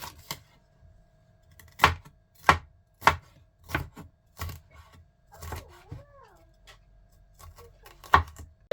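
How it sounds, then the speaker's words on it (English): A knife dicing vegetables on a cutting board, a series of crisp, evenly spaced chops close up, with pauses between strokes and a faint brief squeak midway. "let's start with dicing our veggies."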